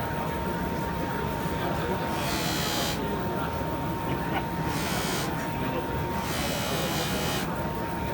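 A JOOLTOOL polishing machine touching up a Rolex watch, giving a steady whirring buzz with a thin constant whine that surges in bursts of harsher hiss, running continuously and close.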